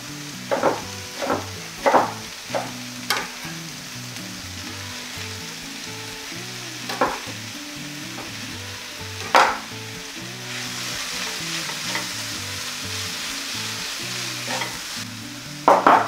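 Chopped sauerkraut sizzles steadily in a hot frying pan, with a low continuous crackle broken by occasional sharp clinks and scrapes of a utensil stirring against the pan.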